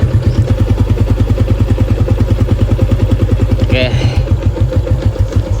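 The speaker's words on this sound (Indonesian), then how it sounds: "Di mesin dia suara halus ya, awal-awal idle, karena memang ya dia oli kental." Car engine idling on thick Mesran SAE40 oil mixed with Filma cooking oil, a loud, close, steady rhythmic putter with a brief voice over it.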